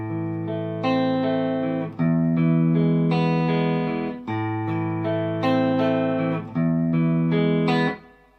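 Guitar plays the second line of the verse of a song: clean sustained chords and notes with effects, in a slow phrase of several strummed chords, each ringing out, loud and alone without talk.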